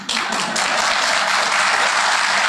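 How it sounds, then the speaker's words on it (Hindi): An audience at a stage event gives steady, dense clapping that is loud and close and lasts throughout without pause. "एक बार जोरदार तालियां होनी चाहिए"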